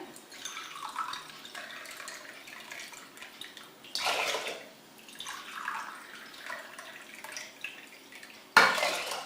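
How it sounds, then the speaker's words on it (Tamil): Water sloshes and splashes into a metal pot for cooking barnyard millet pongal, with a few louder bursts of pouring from a tumbler and clinks of the vessel against the rim. "இப்போ நான் ஒரு டம்ளர் குதிரைவாளிக்கு வந்து நாலு டம்ளர் தண்ணி ஊற்றுறேன்"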